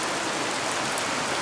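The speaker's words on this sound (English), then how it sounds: "pouring down rain" Heavy rain pours down steadily outside an old barn, a dense, even hiss of falling water with no pauses or voices.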